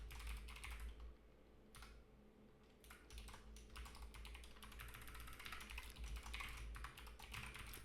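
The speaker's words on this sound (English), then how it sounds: "my bird's stepping on my keyboard" A pet bird steps across a computer keyboard, producing bursts of light irregular key clicks and taps with short pauses between, close and quiet over a faint steady hum.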